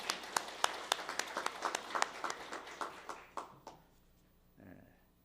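A Korean Methodist church congregation at Sunday worship gives a short round of blessing applause, with distinct claps in a quick rhythm that thin out and fade within about four seconds, followed by near quiet and a faint murmur.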